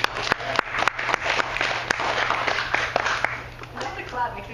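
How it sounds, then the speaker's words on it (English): An audience at a poetry jam claps in a steady patter of sharp, close hand claps that carries on throughout, with a low hum beneath. "Just the clap makes me more nervous."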